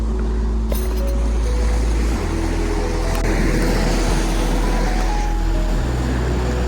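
Steady ocean surf washes at a seashore at night in Dipaculao, a dense continuous roar of waves with a low engine-like drone underneath and no speech.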